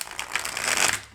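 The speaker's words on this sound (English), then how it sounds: "So I will shuffle once again here." Tarot cards are shuffled close by in a quick riffling burst of papery flutters that swells and fades within about a second.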